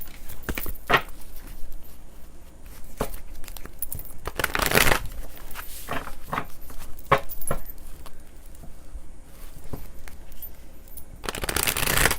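Tarot cards are shuffled by hand in intermittent riffling bursts and soft papery slides, close and clear, with quiet pauses between shuffles.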